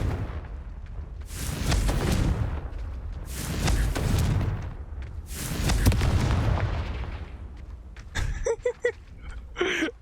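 Confringo blasting curses in the video game Hogwarts Legacy boom out as three heavy, rumbling explosions, each swelling and fading over a couple of seconds, followed by a flurry of short crackling magical pops.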